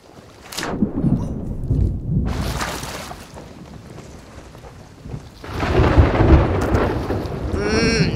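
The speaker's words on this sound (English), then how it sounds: "That storm's scaring me." A thunderstorm at sea in Sea of Thieves rolls through with heavy crashes of thunder and rumbling booms over steady pouring rain, swelling and easing in loud waves across several seconds.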